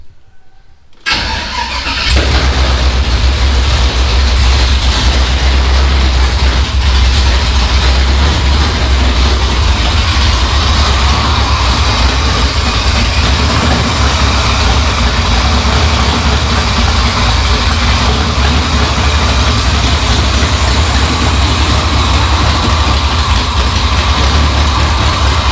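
An OBS Chevrolet 1500 truck with a swapped 6.0 LSA engine cranks briefly, then fires and settles into a loud, steady, close-up idle with a deep rumble that continues unbroken.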